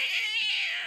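A pregnant feral street cat yowls in one sustained, loud, close wail that holds steady and then wavers slightly, with no other sound around it.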